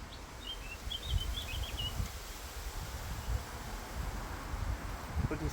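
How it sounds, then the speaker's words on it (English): Strong wind blows outdoors among cactus plants, a steady low rumble with gusty buffeting against the microphone, while faint bird chirps sound in the background. "Pretty strong wind."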